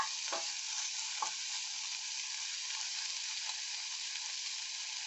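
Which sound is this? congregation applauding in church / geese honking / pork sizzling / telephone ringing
pork sizzling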